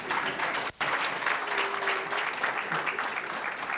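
A youth audience at an anti-corruption day event claps steadily, a dense and fairly loud burst of many hands lasting a few seconds, with no speech over it.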